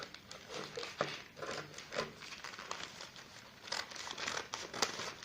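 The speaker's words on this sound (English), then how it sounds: "So now I'm cutting out the flare." Scissors cutting fabric out for a flare sleeve give a steady run of soft, close crinkling snips and rustles, with no talking.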